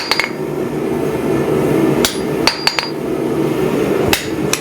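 A hammer drives a steel punch into steel in a blacksmith's shop, giving a handful of sharp, loud metallic strikes spaced irregularly apart over low background noise.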